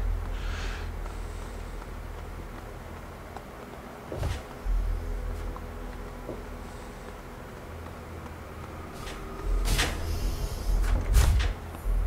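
A heavy door in Fallout 3's Vault 101 opens with a few distinct mechanical clunks and slides, spaced seconds apart over a low steady hum.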